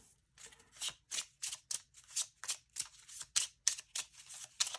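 Cards being shuffled by hand during a card reading, a quick series of crisp riffling bursts, about a dozen in a row, close and fairly quiet.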